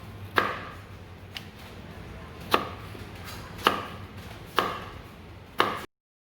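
Knife chopping potatoes for potato salad on a cutting board, five sharp separate chops spaced about a second apart, close and clear against quiet room noise.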